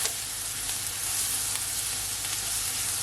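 Crushed garlic sizzling in melted butter in a pan, a loud, dense, unbroken hiss that stays steady and close with no talk.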